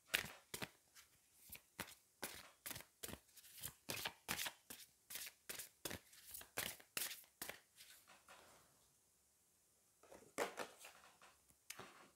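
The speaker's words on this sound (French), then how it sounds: "on va aller prendre une carte du Magic of You" Tarot cards are shuffled by hand in a quick, even run of crisp riffling flicks. After a short pause, a few more snaps follow as cards are drawn, close and fairly quiet, with no talking.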